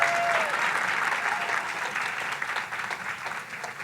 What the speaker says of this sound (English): nothing makes me happier than to get a smattering of applause